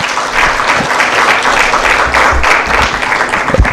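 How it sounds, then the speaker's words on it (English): Audience applause at a public finance committee meeting in Kenya, sustained dense clapping from a large room throughout, loud and close. "Let's appreciate, applaud."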